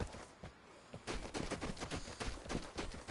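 Gunfire in the video game Vigor, with rapid bursts of shots and loud cracks spread across the whole stretch, dense and fairly close, with no talk.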